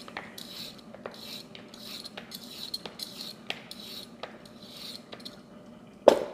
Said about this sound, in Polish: Obieram marchewki.